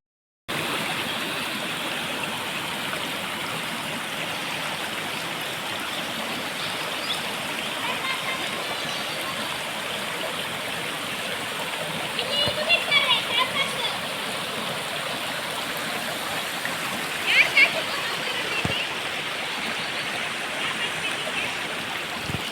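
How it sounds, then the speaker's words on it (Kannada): A small waterfall made by a check dam pours in a steady broadband rush of falling water, continuous and fairly close, with a couple of brief brighter splashes partway through; no talking is heard. "ಈಗ ಮಿನಿ ವಾಟರ್ ಫಾಲ್ ಇಲ್ಲಿ ಕ್ರಿಯೇಟ್ ಆಗಿದೆ ನೋಡಿ ಅಂತ ಮಿನಿ ವಾಟರ್ ಫಾಲ್"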